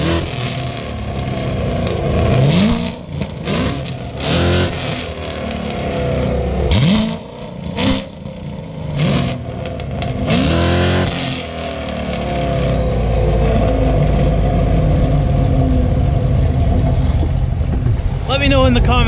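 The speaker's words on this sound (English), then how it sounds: "We're gonna have a rev battle between a 2017 C7 Z06 and a Camaro SS." A 2017 Corvette C7 Z06 and a Camaro SS, both fitted with Cook's headers, trade loud, close revs in sharp bursts that climb and fall, with talk between them, then one long sustained roar.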